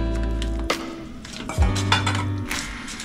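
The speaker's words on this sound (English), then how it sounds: "So we're going to cover a pot and it's going to cook." A lid goes onto a cooking pot of Jamaican-style chicken soup, making a few close metallic clinks and knocks over a low hum of the stove.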